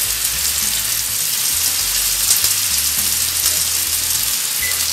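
Linguiça sausage seasoned with paprika and salt sizzles steadily in a hot frying pan at breakfast, a continuous close crackle and hiss with no talk.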